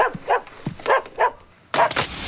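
A dog barks in a short run of four or five sharp, close barks, pausing briefly before a louder burst of noise at the end; no speech is heard.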